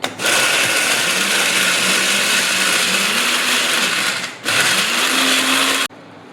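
A kitchen blender runs continuously, crushing a paste with three to four spoonfuls of yogurt for methi thepla and dahi tikhari, loud and steady with a brief dip midway before cutting off near the end.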